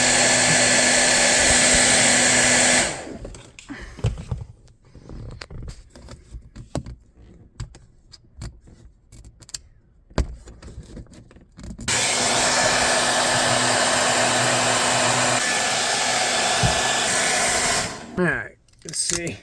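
Hair dryer heating car window tint, a loud, close, steady blowing roar that cuts out for several seconds of handling noises and clicks, then resumes before stopping near the end.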